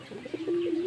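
Pigeons coo in a loft in a brief, close burst with a steady low tone swelling in the middle and soft chirps around it, with no talk.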